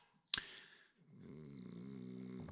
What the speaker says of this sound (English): Oh, man, you snore like pig.